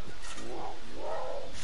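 Wild cat in Far Cry 5 letting out two drawn-out snarling roars, close and fairly loud over a steady game background hiss, with no talk.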